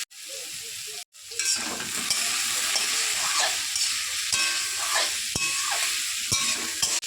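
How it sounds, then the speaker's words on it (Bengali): Potato and bitter gourd pieces frying in a pan with salt and turmeric for a Bengali chorchori: loud continuous sizzling close by, with scraping stirs and sharp clicks of a spatula against the pan. "আলু করলাগুলো ভাজা হয়ে গেছে, এবার একটু জল দিয়ে ঢাকা দিয়ে দেবো।"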